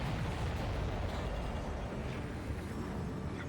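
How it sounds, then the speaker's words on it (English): Supply ship exploding in a PS5 flight combat video game, a sustained deep rumbling blast with rolling low-end roar lasting several seconds. "Did you see that explosion? Looks like that's one of them down."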